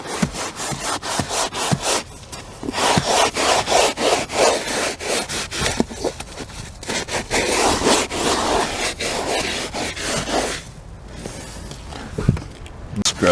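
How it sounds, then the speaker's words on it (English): A surface is scrubbed clean with steady, fast back-and-forth scraping strokes, close and loud, that continue for most of the time with a few short pauses. "Scrubbing it out."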